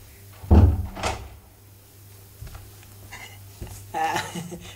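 A door is pushed shut and locked indoors, giving a few heavy thuds and sharp clacks spread across the moment, with quieter rattles between them and faint voices.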